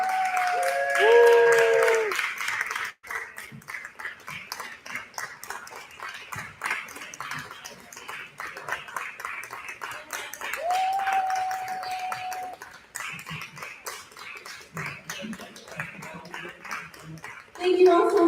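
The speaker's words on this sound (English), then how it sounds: "Let's give you one more round of applause." An audience applauds musicians at the close of a Spanglish Springsteen show, long scattered clapping with some cheering, and voices talking and calling out over it near and far.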